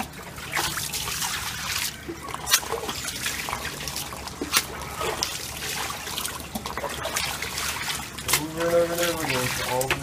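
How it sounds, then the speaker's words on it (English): Washcloth rinsed by hand in water in Nicaragua, dipped and swished with steady trickling and splashing, someone talking over it throughout. "Now when you think you're done, you dip the water and you rinse it"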